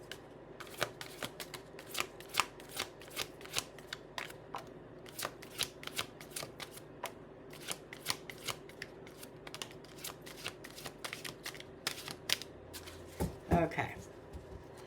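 A clump of tarot cards being shuffled, with steady rapid riffling snaps and soft flicks repeating quietly throughout, a voice speaking faintly underneath.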